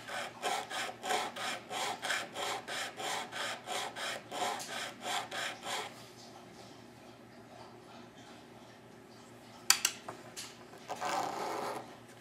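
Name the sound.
sanding wooden fiddle pegs flat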